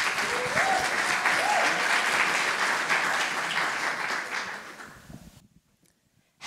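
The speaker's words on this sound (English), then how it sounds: "A round of applause, please." Audience applause at a business plan competition finals as the next pitch team is brought on, loud sustained clapping that fades out toward the end and leaves near silence.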